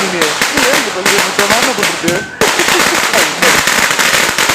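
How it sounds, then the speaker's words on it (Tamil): Firecrackers set off by children at home burst in a rapid series of sharp, loud cracks and pops, close by, with excited voices talking and shouting over them. "அடுத்த வெடி நான் தான் வெடிப்பேன்"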